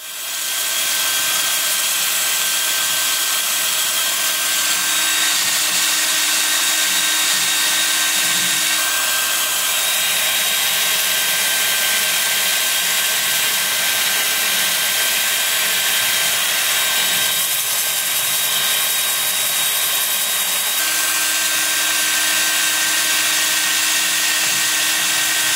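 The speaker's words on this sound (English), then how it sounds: "So let's sand it up." Steady, continuous abrasive hiss of 80-grit sandpaper against a turned wood piece spinning on a lathe, with a constant motor whine underneath, close and fairly loud throughout.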